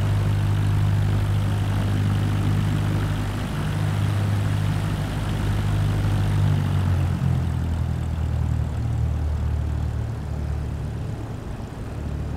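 Propeller airplane taxiing onto a runway in Microsoft Flight Simulator 2024, a steady droning engine with a low, buzzing hum that shifts down in pitch partway through as the plane slows, heard alone and close.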